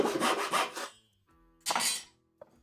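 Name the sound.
sawing wood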